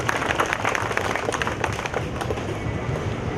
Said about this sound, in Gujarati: એકવાર જોરદાર તાળીઓ ત્યાં સ્વયંસેવક ભાઈઓને વધાવી લેજો મિત્રો